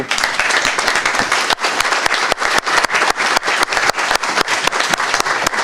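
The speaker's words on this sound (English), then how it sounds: "I want a strong round of applause for Randall" A strong round of applause for Randall, Pax Natura Foundation president, fills a conference hall: dense, sustained clapping from a large audience, loud and steady throughout with scattered sharper claps.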